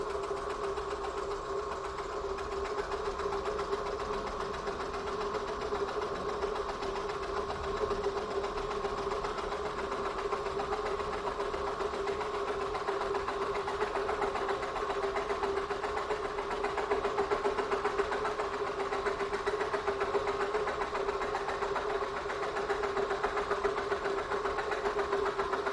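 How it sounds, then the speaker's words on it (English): A die filer machine drives an old, dull sawzall blade through plywood. It makes a steady, continuous mechanical buzz and hum with a fast reciprocating rattle that stays even throughout, with no voices. "I have now replaced the file with a sawzall blade. Probably would have cut the plywood better if I would have used a sharp new blade"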